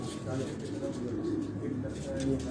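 Racing pigeon cooing softly in a loft, a low soft coo close by, heard under someone talking.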